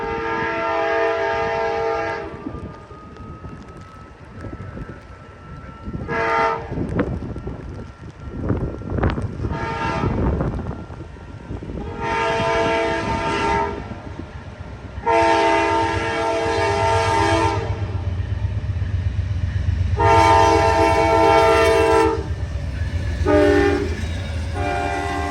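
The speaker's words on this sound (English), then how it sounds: "Amtrak's egregiously late Silver Star cannonballs past us in a desperate attempt to make up over 6 hours of lost time." An Amtrak Silver Star passenger train, running hours late, rushes past at speed, sounding several long, loud horn blasts in separate bursts, the rumble and rail clatter of the cars building underneath as it goes by close up.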